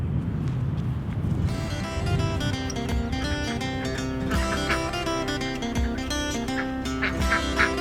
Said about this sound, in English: We're gonna go round up the ducks and see if we can actually get them in there.